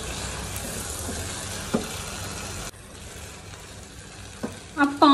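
Chicken and capsicum stir-fry in a pan with a steady sizzle that drops quieter halfway through. A few stirring knocks come through, and a voice starts speaking near the end.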